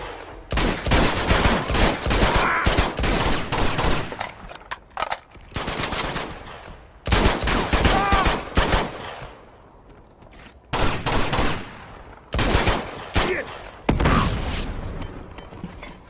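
Gunfire in the video game Uncharted 2, with loud bursts of automatic weapons fire and shots in dense volleys, separated by short lulls, close and intense.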